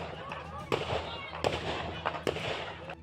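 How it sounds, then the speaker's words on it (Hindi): Several sharp gunshots ring out one after another during a violent clash between two groups, loud, sudden cracks spaced roughly a second apart over a noisy, murmuring background of people. "दोनों गुटों के झगड़े में एक के बाद एक कई गोलियां चलने की आवाज भी साफ सुनाई"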